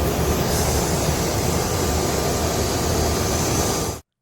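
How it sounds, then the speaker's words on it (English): Inside the rear cabin of a commuter jet in flight, a loud, continuous broadband roar of engine and airflow noise holds steady and unchanging, then cuts off abruptly at the end. "Here's unamplified video taken from the back of a commuter jet."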